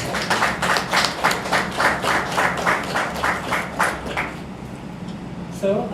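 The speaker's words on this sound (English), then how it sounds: "So another round of applause for that." Audience at a 2021/2022 graduation ceremony breaks into steady, rhythmic applause for about four seconds before it thins out and fades, with a brief voice at the very end.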